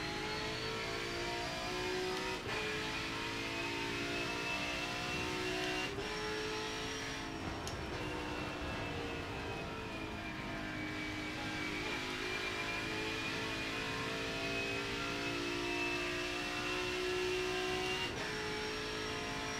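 A race car engine in the Forza racing game revs and climbs through gears in long rising sweeps, with sharp drops at each shift, loud and continuous over nearly twenty seconds.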